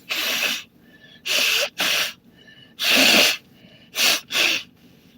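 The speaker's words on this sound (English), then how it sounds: "I gotta blow my nose." A person with a cold blows their nose several times up close, in loud breathy honking bursts of uneven length separated by brief pauses and sniffs.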